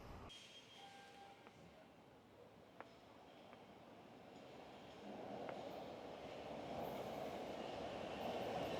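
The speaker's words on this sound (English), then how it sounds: "That's the train over here." A Boston subway train rumbles past with a rising roar and faint metallic squeals, growing louder toward the end as it nears.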